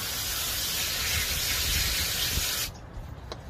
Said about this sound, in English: we're gonna spray it a little bit with the Purple Power